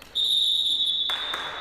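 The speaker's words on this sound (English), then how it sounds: "And you hear a whistle," A referee's whistle at an Asia Pro League basketball game, Team Galaxy vs Nitro, gives one long, loud, steady blast over arena noise, followed by crowd sound.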